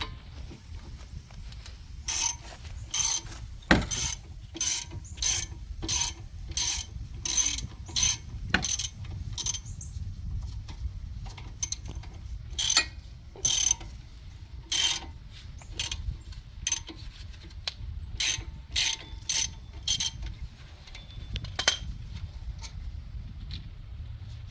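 A hand ratchet clicks in quick bursts, removing 14 millimeter front brake caliper bolts on a 2006-13 Suzuki SX4, its sharp pawl clicks close and repeated in uneven runs over a low background hum.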